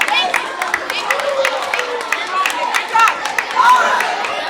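Students in a classroom clap for a classmate, a brisk patter of hands mixed with crowd chatter and a few cheers, sustained and fairly close throughout.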